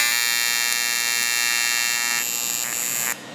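An aluminum TIG weld underway, a steady, loud electric buzz with a bright harmonic whine that shifts slightly near the end and then drops off abruptly.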